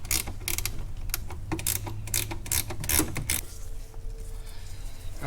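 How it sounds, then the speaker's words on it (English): Ratchet wrench backing off the two mounting nuts on a brake master cylinder, a run of sharp, rapid clicking bursts close by for the first few seconds, then quieter mechanical handling. "Now it's okay for me to remove the two mounting nuts."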